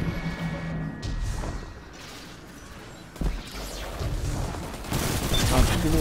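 Gunfire and weapon effects in a Destiny 2 raid, bursts of shots and crashes mixed with game sounds, with players talking over the action.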